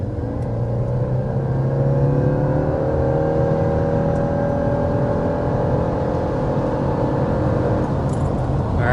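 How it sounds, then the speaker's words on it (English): A 2026 Subaru Crosstrek hybrid with a 2-liter four-cylinder and electric motors accelerates to 60 mph, its steady engine drone rising in pitch as it speeds up, loud and continuous from inside the cabin, with no talking. "that was 60 miles per hour with the hybrid Crosstrek"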